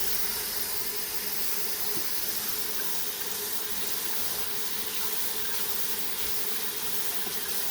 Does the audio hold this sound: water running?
yes